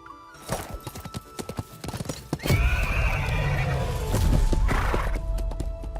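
Horses in the Love & DeepSpace game gallop across a field, a fast clip-clop of hooves building into a loud, sustained rumble of charging riders, with a sharp whinny rising above the drumming.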